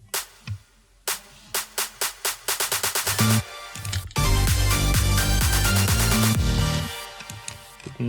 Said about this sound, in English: Over here we have snare build-up.